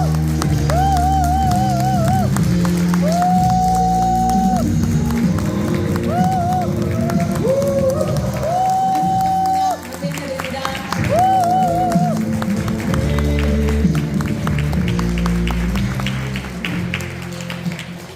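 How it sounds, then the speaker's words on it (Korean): Audience applause welcomes a platinum-rank director onto the stage at a 4Life network-marketing seminar, a steady wash of clapping and crowd noise mixed under loud, upbeat walk-on music with a bright melody throughout. "뜨거운 박수 감사 부탁드리겠습니다"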